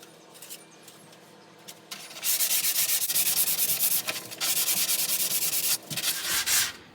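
Hand sanding of a wooden dog stopper, steady rasping strokes in bursts that stop and restart, close and fairly loud with no talking.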